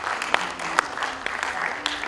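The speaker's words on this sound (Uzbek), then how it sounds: "Olqishlab qo'yamiz." Audience applause at a 75th jubilee evening celebration, a steady wash of many hands clapping with a few sharper peaks, loud and close, with light voices mixed in.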